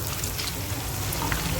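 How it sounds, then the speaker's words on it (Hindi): Water is poured into onions frying in a pan for daal mash, making a steady hissing, sizzling splash that runs unbroken and close up. "जैसे ही प्याज हल्के से लाइट ब्राउन होंगे तो हम इसमें डालेंगे थोड़ा सा पानी"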